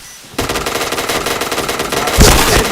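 Rapid automatic gunfire in a shooting video game bursts in abruptly and keeps rattling continuously, loud and close, with a sharper blast near the end.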